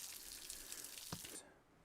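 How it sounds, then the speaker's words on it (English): Small waterfall on a state park trail, a steady broadband rush of falling water, moderately close and fairly quiet, that drops away abruptly near the end of the short clip. "It's a little waterfall."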